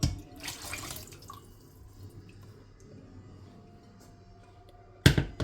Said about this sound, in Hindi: गिलास पानी को डाल देंगे। जो यखनी है वो भी इसमें डाल देंगे,